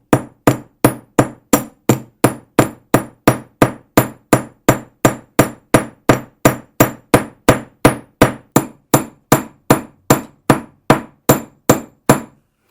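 A metal hammer forges wire into an anticlastic ring with a long, evenly paced series of sharp, loud, close strikes, roughly three per second, each ringing briefly before the next, and no talking.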